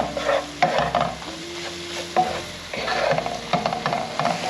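Flour and oil cook with sausage in a pan for gravy, giving a close, steady sizzle with frequent scraping stirs and brief clanks of the utensil.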